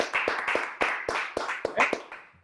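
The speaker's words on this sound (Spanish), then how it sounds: "Un aplauso para eso." A few people clap in a studio during a talk show with a doctor guest, sparse and uneven, each hit sharp and close, tapering off after about two seconds with no speech.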